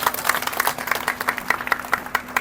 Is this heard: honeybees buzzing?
no